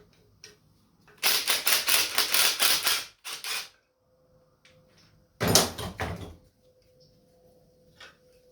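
An impact wrench rattles in two bursts at close range, one about two seconds long and a shorter one later, on the back side of a 1964 Chevrolet Impala rebuild, with quiet gaps between.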